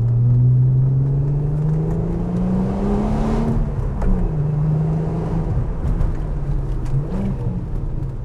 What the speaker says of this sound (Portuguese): E esse ronco do V6, que é um negócio de louco.